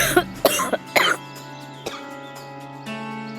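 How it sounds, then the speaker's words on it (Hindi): A sick woman coughs several times in quick succession early on, loud and close in a domestic scene, followed by quieter breaths under a steady low hum. "फिर से खांसी उड़ गई"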